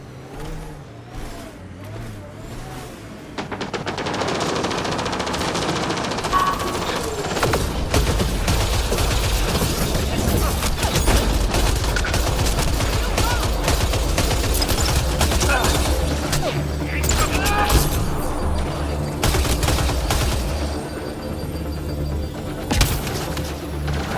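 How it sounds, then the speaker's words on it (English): Heavy weapons fire in Mass Effect: Andromeda sounds as dense, rapid bursts of gunfire and blasts, loud and continuous after a quieter opening few seconds, with a game-world rumble underneath. "I detect heavy weapons fire nearby"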